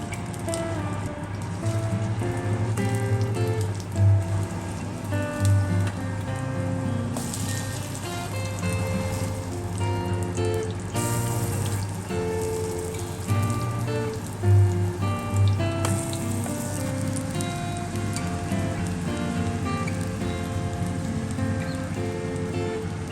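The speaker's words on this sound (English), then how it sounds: "And then fry in oil." Tuna kebabs, round patties coated in egg, fry in hot oil with a steady, dense crackle and sizzle like rain on a surface, continuous throughout under a layer of background music with no talking.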